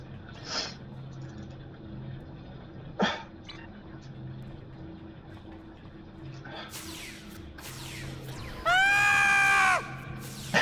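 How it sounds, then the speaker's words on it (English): An enemy in the video game Star Trek Online lets out a long, loud, high wavering scream near the end, after scattered shorter cries and combat noises over a continuous game background. "He screams like a girl."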